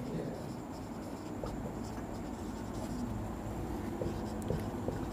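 Pen scratching on paper as a sentence is written by hand, a faint, steady scribbling with small taps, close up and quiet, with a little talk underneath.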